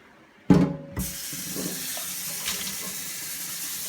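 A kitchen tap bursts on and runs hot water steadily into an oven pan, a close, continuous hiss and splash after a sudden start.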